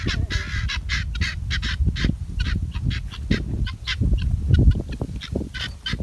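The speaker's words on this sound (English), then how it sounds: "the guinea hen, say hi." Guinea hens calling in the open, a steady loud chorus of harsh, honking cackles repeating in quick rhythm with no pauses, close by and without speech.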